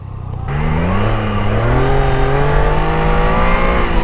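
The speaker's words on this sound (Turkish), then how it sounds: "Gazı açıyorum yemiyor." A Triumph Daytona 660 motorcycle engine revs steadily with the throttle opened after a brief quiet start, its pitch climbing slightly and holding loud and close for several seconds.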